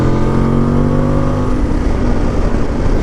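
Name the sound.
Voge DS800X Rally motorcycle engine revving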